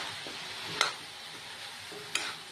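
Food seasoned with salt and turmeric fries in a pan under a low, continuous sizzle while a utensil stirs it, with two sharp metallic taps against the pan standing out near and clear.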